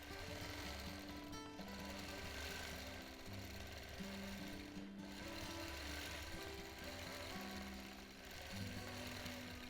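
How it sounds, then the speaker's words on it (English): A quilting machine runs close up through freehand quilting and finishing lock stitches, a constant dense mechanical buzz with a rapid stitching pulse throughout. "And a few little lock stitches to finish it off."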